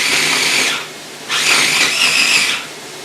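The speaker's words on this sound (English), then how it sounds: "So I just use the food processor and put those guys all in there together." A mini Cuisinart food processor chops pineapple and garlic in two loud whirring bursts, separated by a short pause, close and with no voices.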